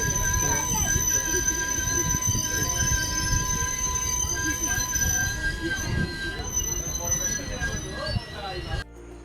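The Humsafar Express pulls into New Jalpaiguri station, its wheels squealing in steady high metallic tones over a rumbling, clattering roll of railcars that continues throughout before cutting off abruptly at the end.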